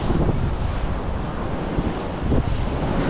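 Surf rolls onto Mawun beach in Lombok, a continuous wash of waves heavily mixed with wind buffeting the microphone, with no voices.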